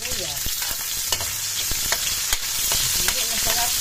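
Onion and garlic sautéing in a pan: a steady, bright sizzle with stirring scrapes and clicks throughout, close and fairly loud, with no talking.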